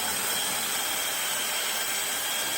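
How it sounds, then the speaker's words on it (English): A power drill bores through a wooden sawhorse piece, giving a steady, close, high-pitched whir that holds evenly throughout the short burst with no talk. "we're going to drill our holes through there"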